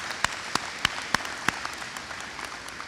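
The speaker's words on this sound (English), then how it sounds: "Give them a round of applause." A handful of sharp, separate hand claps land at a steady rhythm during a school board introduction at the Page High ribbon-cutting ceremony, then fade into quiet room tone.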